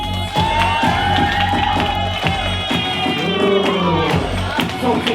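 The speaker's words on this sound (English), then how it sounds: "That's right, give her a round of applause." A lively crowd cheers and whoops loudly, with bursts of shouting and some clapping mixed in, voices rising and falling close by throughout.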